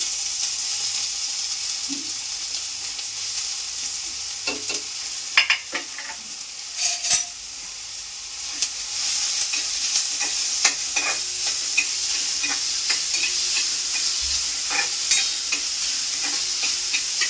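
Onion and chili frying in coconut oil for a shevga flower dish, a steady close sizzle with scattered clicks of stirring, no talking.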